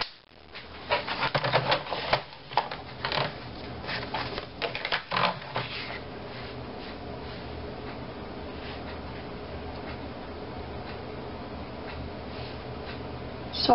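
Scrapbook paper for a mini album's binding is trimmed on a paper trimmer with a series of sharp clicking and slicing sounds early on, then a quieter steady shuffle.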